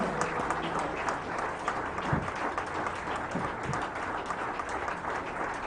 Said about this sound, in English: Please, let's keep clapping until he comes to the podium.